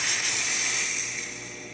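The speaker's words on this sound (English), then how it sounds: "good steam coming out of the machine" Steam hisses steadily from the wand of a La Pavoni Domus Bar espresso machine with its boiler at full pressure, a bright continuous jet that holds fairly constant and tapers slightly toward the end, with no talking.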